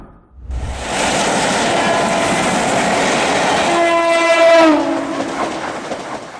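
A train rushing past on rails, a loud steady roar building right after a brief quiet start, with a horn blast rising in the middle and clattering wheels as it passes close by.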